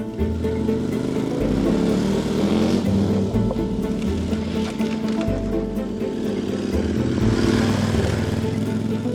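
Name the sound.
motorcycle riding off-road in Corsica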